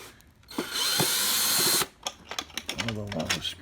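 A power screwdriver whirs loudly for over a second while backing long screws out of a Hoover Portapower CH30000 vacuum cleaner, followed by clinks and rattles of screws and plastic parts; a voice speaks briefly.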